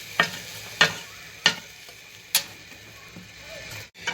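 Fish roe fries in a pan as a spatula scrapes through it in about five sharp, separate strokes over a low, soft sizzle.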